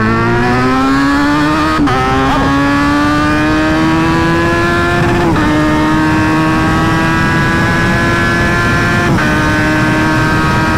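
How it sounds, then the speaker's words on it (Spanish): A Kawasaki Z900 motorcycle accelerates hard in second gear, its engine note climbing loud and close with sharp breaks at each shift, rising again after every change. "Vamos a pegarnos un aceleronazo"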